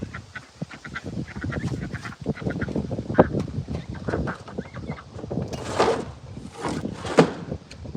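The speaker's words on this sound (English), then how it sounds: "Ducks." Ducks on a homestead quack repeatedly in uneven bursts, fairly close and loud, with some honking calls mixed in and no talking.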